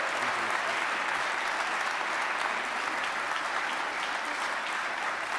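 A church congregation applauds and cheers after a baptism, with dense, steady clapping from a crowd filling the room at an even level.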